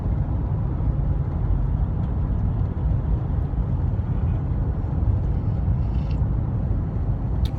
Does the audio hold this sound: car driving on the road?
yes